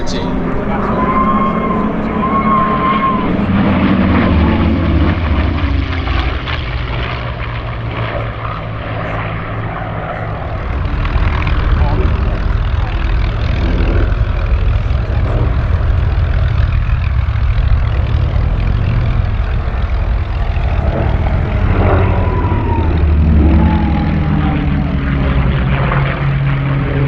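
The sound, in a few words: Flying Bulls aircraft performing aerobatic display at Sywell Airshow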